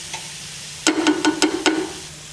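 Onions sizzle and stir in a cooking pot, quiet at first, then five or six distinct, close stirring scrapes over the frying hiss; no one speaks.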